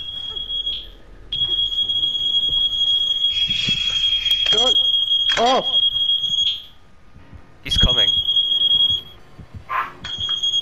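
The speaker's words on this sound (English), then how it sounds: "Alarm went off again." A shrill electronic alarm in a Dead by Daylight match blares in a steady high-pitched tone, cutting out briefly and then sounding again, with a person laughing and talking over it and other game sounds.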